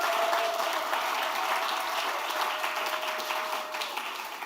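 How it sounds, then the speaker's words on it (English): A round of applause from an audience at a Jamaica–Sierra Leone reunion event, a moderately quiet but steady spread of clapping that continues evenly without pause and fades slightly toward the end. "Please give him a Jamaican Bonononos round of applause."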